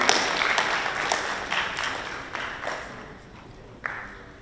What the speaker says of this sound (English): let's give our parents a big, big round of applause, please